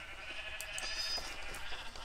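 A Minecraft sheep bleats in short, faint, high-pitched calls over a soft game background, with a few repeated wavering cries across a couple of seconds.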